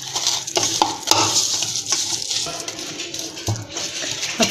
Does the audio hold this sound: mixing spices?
yes